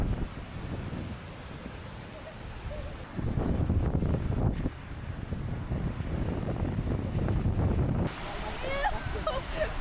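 Steady wind roars across a microphone on Iceland's volcanic coast, a dense low rumble that strengthens in gusts, with a person talking under it.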